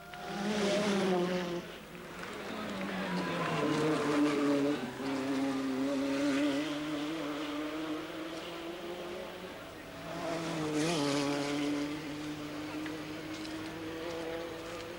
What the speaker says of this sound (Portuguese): Um carro que aqui vemos já a chegar ao local